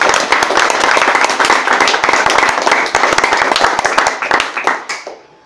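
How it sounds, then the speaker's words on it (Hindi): Audience at a meeting clapping loudly, a dense burst of many hands that holds steady for several seconds, then thins out and fades to silence. "मैं चाहूंगा उसके लिए जोर से ताली बजाइए आप।"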